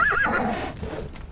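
A horse in the video game Conan Exiles gives a short, close whinny that trails off, with faint hoof clops underneath.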